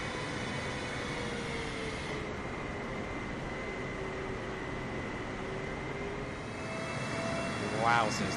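Boeing 747 jet engines in Microsoft Flight Simulator while taxiing out toward the runway: a continuous, even turbine roar with a high whine on top, swelling slightly near the end.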